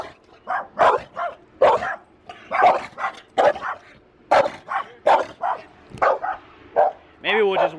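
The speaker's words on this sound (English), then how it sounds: "Oh shit, there's another dog." A dog barks repeatedly in a steady run of sharp, loud, close barks with some yips, continuing for several seconds, ending on a higher whining note.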